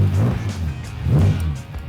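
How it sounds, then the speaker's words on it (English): A restored classic British car engine catches and runs with a loud, close, throaty rumble that swells twice in quick revs, heard alone without talking. "I think the first time the engine starts."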